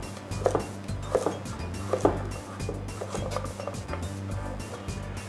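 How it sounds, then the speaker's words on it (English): A kitchen knife slices carrot pieces on a wooden board, producing a regular series of crisp taps under a steady low background hum, close and moderately loud. "From that, you can do a simple slice."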